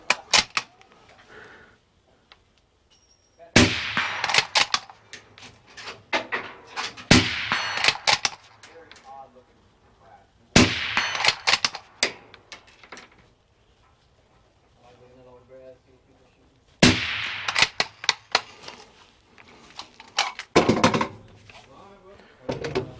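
Rifle shots from a Uintah Precision UPR-15 .223 ring out in several separated bursts of sharp cracks outdoors, each group of quick reports followed by quieter gaps with voices talking between them.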